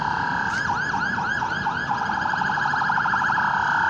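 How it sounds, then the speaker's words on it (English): Police car siren in downtown traffic, a loud wailing-yelp pattern that cycles rapidly and continuously over steady street noise. "And that's a police car."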